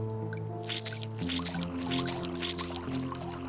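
In the survival video game Dead In Bermuda, water pours steadily into a barrel tank, a continuous splashing trickle layered over a sustained musical drone, with no talking.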